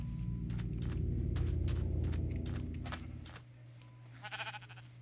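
Sheep bleating in Minecraft, a few short wavering bleats near the end over a steady low game rumble and footstep-like thumps, with no talking.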